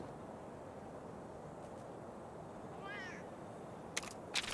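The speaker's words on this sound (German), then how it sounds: "die Katze." A cat meows once, a short rising-falling cry over a steady ambient hum in the video game Monster Hunter Stories 2: Wings of Ruin, followed by a couple of sharp clicks.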